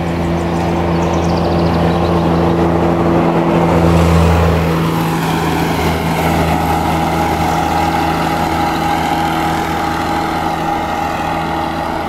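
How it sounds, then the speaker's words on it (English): A vehicle drives past on the quiet roads of Hanlan's Point, Toronto Island, its engine drone swelling to a peak partway through, then settling into a steady hum beneath the outdoor ambience. "I hear a vehicle coming. So probably you're gonna see a vehicle passing by very shortly."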